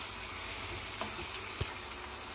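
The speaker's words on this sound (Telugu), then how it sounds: "చికెన్ వేసిన తర్వాత మొత్తం ఒకసారి బాగా కలుపుకోవాలి" Chicken pieces stirred into frying onions in a pan for gongura chicken curry, a steady broadband sizzle with a couple of soft spoon knocks, close and continuous with no talking.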